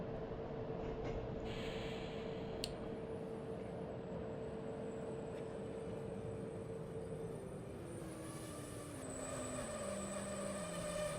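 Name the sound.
train braking to a stop in video game Train Simulator 2014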